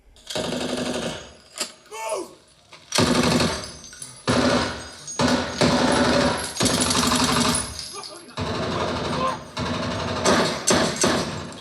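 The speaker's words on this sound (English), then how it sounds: "And here's the best example of guns where we hit in that 80 dB territory." Gunfire from the war film Warfare playing on a home theater system: dense bursts of rapid automatic fire in repeated loud volleys with heavy low bass, separated by brief pauses.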